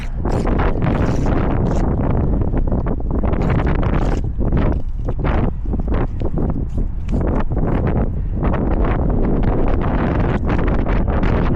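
Strong wind gusting against the side of an Anchorage motel, buffeting the microphone in a loud, continuous roar with rustling surges, heard alone without talk.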